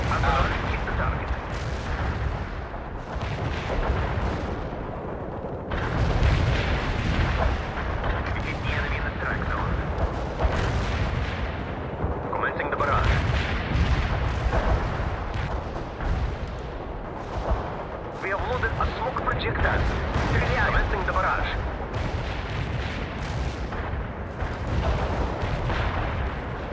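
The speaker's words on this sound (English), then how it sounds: "Artillery strike on the way." Artillery strike explosions and gunfire from the real-time strategy game World in Conflict, Soviet assault mission, a dense continuous barrage of booms and blasts rolling through the whole stretch with game voices mixed in.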